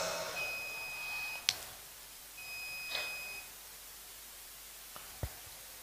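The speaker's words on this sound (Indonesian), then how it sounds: "karena alarm sudah bunyi" A faint electronic alarm sounds during a religious sermon: two long, steady high beeps over a hissy room background, with a couple of soft clicks afterward.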